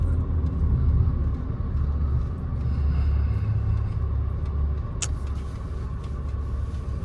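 A 2017 Nissan Rogue with about 100,000 miles cruises along, a steady low engine and road roar heard from inside the cabin throughout, with a faint brief click partway through.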